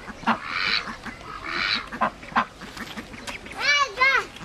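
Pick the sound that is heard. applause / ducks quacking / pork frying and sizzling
ducks quacking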